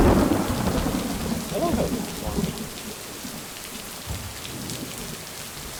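Steady rain with a thunderstorm in a video game, a dense hiss of rainfall with a low thunder rumble that fades early on, while a person speaks briefly over it.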